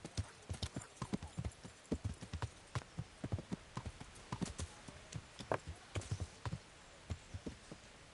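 Horse hooves clip-clop in a steady walking rhythm in a medieval open-world video game, close and clear throughout, with no voices over them.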